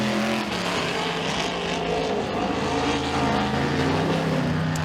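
Vintage race cars roar through a heat race at Freedom Motorsports Park, several engines blaring loudly and continuously with shifting pitch as the pack runs past, no voices over it.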